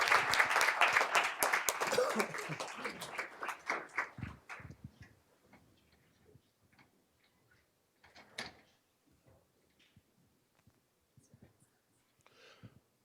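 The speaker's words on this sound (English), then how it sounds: "another round of applause for Renaissance Secondary" Applause from an audience at a school board meeting honoring Renaissance Secondary, loud and dense for about four seconds, then thinning into a few scattered claps and small knocks in a quiet room.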